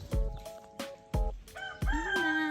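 A red rooster on a farm gives a few short, loud calls and then a full crow, close by and alone.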